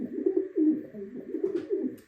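A pigeon coos indoors in several soft, rolling phrases, close and fairly quiet, alone without talk over it.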